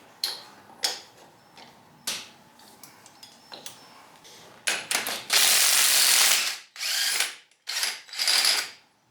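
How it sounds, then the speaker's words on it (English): An open-end wrench works loose an old block heater on an engine, producing close metallic clicks and ratcheting, then louder sustained grinding bursts in uneven spurts, with no talk. "This is an old school block heater. So I gotta get that with an open end wrench."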